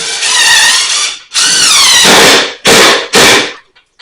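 A DeWalt cordless impact driver whirs and hammers in three or four loud bursts while driving a screw, the first two long and the last ones short, close up.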